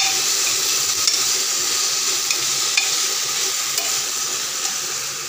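Rice frying in a pan while being stirred continuously, a dense steady sizzle with occasional faint scrapes and ticks, loud and close, no speech.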